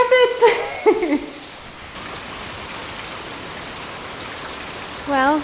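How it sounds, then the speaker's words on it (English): Steady hail and rain fall during a thunderstorm outside a home, a constant hissing patter that settles into an even roar, with someone briefly talking at the start and end. "I guess we're getting hail."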